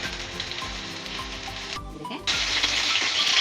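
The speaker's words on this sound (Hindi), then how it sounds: "अब हम साइड चेंज करके फ्राई करेंगे।" Eggplant slices sizzle steadily in hot oil in a pan, with a brief dip and clatter as they are turned over, then the frying resumes louder and denser.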